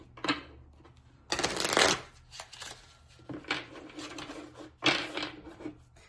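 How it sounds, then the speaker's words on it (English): Thick matte oracle cards are shuffled in several quick riffling bursts, with short pauses and soft handling noises between them. "I feel like I need to shuffle these."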